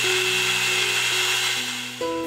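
BG-5167 ALLSOME drill press boring into metal, a steady whining motor hum with a sustained tonal drone that shifts pitch near the end as the bit cuts.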